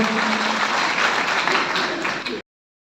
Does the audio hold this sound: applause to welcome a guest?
yes